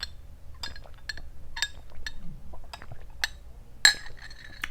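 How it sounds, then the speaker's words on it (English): A glass straw clinks lightly against a drinking glass several times, with one brighter, louder clink near the end, all close and quiet. "Glass straws are amazing."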